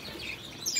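Baby Lady Gouldian finches, recently weaned, give faint, soft chirps over a low background hiss, with no talking.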